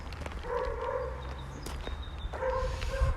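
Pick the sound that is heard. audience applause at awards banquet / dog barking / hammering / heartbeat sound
dog barking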